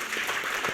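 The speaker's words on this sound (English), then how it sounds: "Let's give a round of applause to Hastu from the Mo Engage team" Brief, fairly faint audience applause after a marketing conference talk, a steady wash of many hands clapping together.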